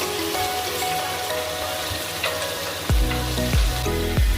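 Masala for a koi fish curry fries in a pan, with a steady close sizzle, then several sharp scraping stirs near the end.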